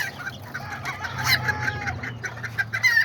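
Kikiriki Azteca chickens and newborn chicks cluck and peep steadily at a pigeon lot, with small bursts of clucking close by over a low background rumble. No people talk.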